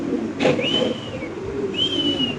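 Large pigeons at a pigeon farm coo softly twice, with a faint flutter or rustle near the start, over a steady background hum.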